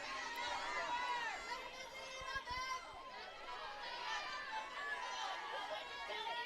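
Crowd of fans at a college softball game between Des Moines Area and Jones, steady murmur of many voices with children's shouts carrying through, continuous and moderately loud throughout.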